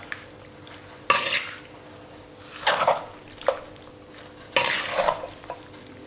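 Pomelo salad with crab paste, lemongrass, coriander, shallot and spring onion being tossed in a bowl makes close, wet rustling clatters in three main bursts, with softer stirring between them.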